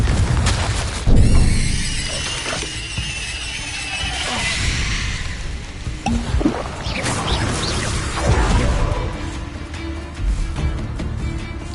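Spell blasts from the Hogwarts Legacy video game, with the Confringo fire spell among them, sounding as a string of loud booms, whooshes and shattering crashes over dense game noise with no pause.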